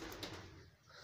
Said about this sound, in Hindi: डरा दिया कबूतरों ने